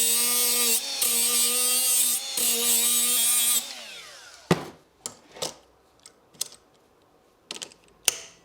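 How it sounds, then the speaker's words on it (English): A power drill fitted with a free Harbor Freight drill bit that won't cut whines loudly in several short bursts, then winds down, followed by scattered clicks and knocks of handling. "Free Harbor Freight drill bits don't cut anything."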